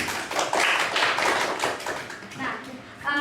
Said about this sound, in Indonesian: Tepuk tangan dulu untuk Aisyah.